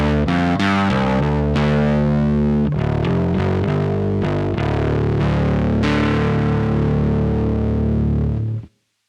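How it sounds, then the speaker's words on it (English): A Cort C4P bass guitar runs through an Electro-Harmonix Battalion distortion straight into a recording interface, playing loud, gritty sustained notes and a short riff before cutting to silence at the end. "that's going through the distortion circuit, coming out of the Battalion and going directly into the recording interface"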